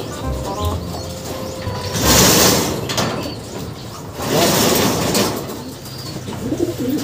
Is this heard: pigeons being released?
yes